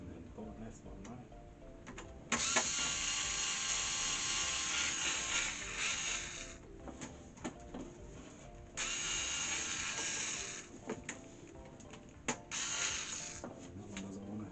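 Screwdriver ratcheting as screws go into a PC case fan mount in a cross pattern, with rapid repeated clicking bursts separated by short pauses, fairly close.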